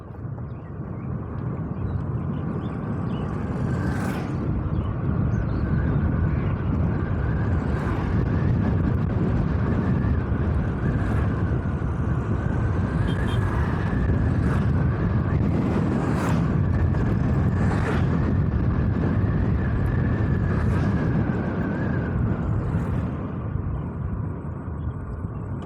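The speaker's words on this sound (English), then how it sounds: "So let's check the speed and also the throttle response." A Quantum Plasma electric scooter accelerates on a road ride test, mostly as a loud, steady roar of wind and road noise with a faint motor whine and occasional bumps, with no talk.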